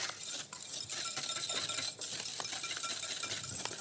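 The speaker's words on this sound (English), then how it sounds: "what I want to do is whisk this up until we get a nice pale colour coming through" Egg yolks and sugar whisked steadily in a bowl, a continuous brisk scraping and swishing with faint metallic clinks, close and fairly quiet with no talking.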